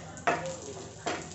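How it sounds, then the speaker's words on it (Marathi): Raisins tossed in hot ghee give a soft, steady sizzle, with two brief louder bursts as they are stirred in the pan; nobody speaks. "याच्यामध्ये मनुका आपण परतून घेऊयात।"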